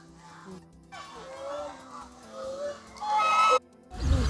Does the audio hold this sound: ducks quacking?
yes